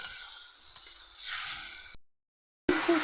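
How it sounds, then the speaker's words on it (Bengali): Spices sauté in a little oil for paneer curry, giving a close, bright sizzle with stirring scrapes. The sound cuts to brief silence, then the hot sizzle returns. "এবার মশলাটা আমি কষতে থাকবো।"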